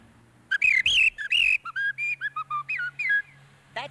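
A man whistles an imitation of a blackbird's song, a string of about a dozen bright, warbling fluting phrases with short gaps, close and clear against a faint low hum, ending in a quick chirp.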